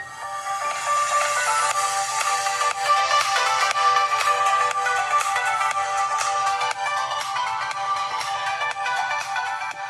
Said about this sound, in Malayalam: ഇനി ഫോണിന്റെ സൗണ്ട് ക്വാളിറ്റി ഒന്ന് ടെസ്റ്റ് ചെയ്ത് നോക്കാം എത്രമാത്രം ലൗഡ് ഉണ്ട് എന്നൊക്കെ